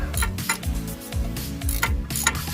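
A ratchet clicks steadily as bolts are backed off a wheel hub, with rapid repeated mechanical clicking in close, loud bursts throughout.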